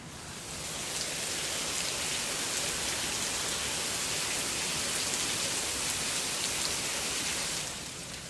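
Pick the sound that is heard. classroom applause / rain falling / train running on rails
rain falling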